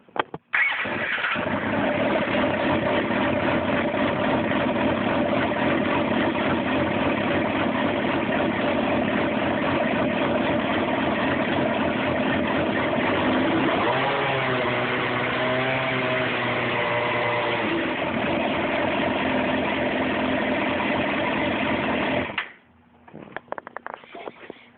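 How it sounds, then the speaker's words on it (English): Fuel-injected Suzuki GSX-R 600 motorcycle cranking and firing up, then a long steady close idle with a brief revving rise in the middle before the engine shuts off abruptly. "Let me see if I can't get the ignition started without stopping the video."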